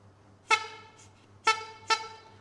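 Three short toots from the horn of a handmade wooden toy car built for children, one at a time with a longer gap before the last two quick ones, fairly clear over a quiet background.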